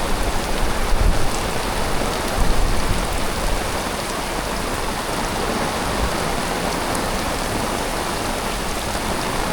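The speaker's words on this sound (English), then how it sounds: "Thunder, lightning, rain." Heavy rain during a thunderstorm, a loud steady broadband hiss of downpour that stays dense and even throughout, with no voices.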